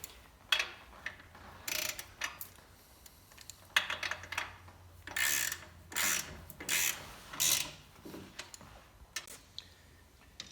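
Allen wrench tightening the motor plate bolts on a quarter midget race car, a run of short clicking, ratcheting metal bursts of uneven rhythm, close up and fairly quiet with no talking.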